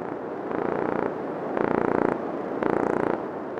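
A fish drums by flexing the muscles around its swim bladder, making a low, buzzing, purr-like rumble in three pulsing bursts of about half a second to a second each, close and steady, with no voices.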